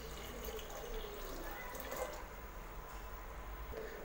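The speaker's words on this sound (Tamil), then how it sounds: "2 டம்ளர் தண்ணி ஊற்றிக்கங்க." Water poured from a tumbler into a pressure cooker holding shallots, tomatoes and salt for instant sambar without dal, a steady continuous splashing pour of close, moderate loudness that runs the whole time.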